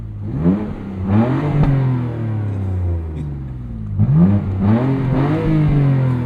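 BMW M2 Competition (2021, 6-speed manual) engine revving in sport mode, two sharp rev climbs with a rising whine and deep exhaust rumble, close and loud, each falling back toward idle.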